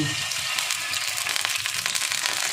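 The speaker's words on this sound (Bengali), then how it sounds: "আমি এই তেলের মধ্যে 1/2 কাপ মতো জল দিয়ে দেব।" Water poured into hot oil in a frying pan sets off a loud, steady sizzle with dense crackling spitting throughout, close up and without talk.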